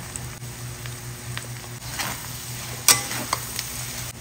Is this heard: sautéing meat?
yes